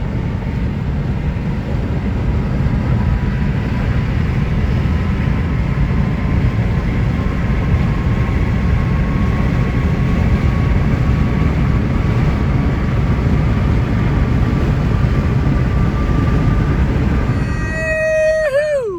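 Steady loud roar of an aircraft engine droning throughout, with a rising whine near the end as it passes close by.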